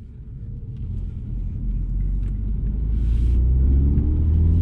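A 2022 MINI John Cooper Works Hardtop pulls away with a deep engine rumble that gradually grows louder as it accelerates, heard close and without talk.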